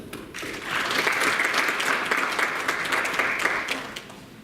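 Audience applause at a legal seminar, steady clapping from a roomful of people that holds at an even level for several seconds before tapering slightly.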